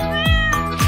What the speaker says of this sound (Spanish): 5 gatos están en la pared.